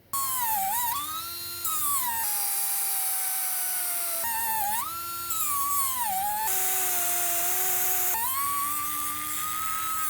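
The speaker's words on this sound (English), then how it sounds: "We're bringing out the power tools." A high-pitched power tool whines in long bursts against stripped, rusted 12-point hub bolts on a Jeep Cherokee, its pitch rising and sagging under load with brief pauses between runs.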